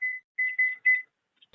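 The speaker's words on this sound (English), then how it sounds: "All right, there goes our timer." Kitchen timer going off while dirty rice rests off the heat: a series of steady, high electronic beeps in a short broken rhythm, close and clear, with no talking.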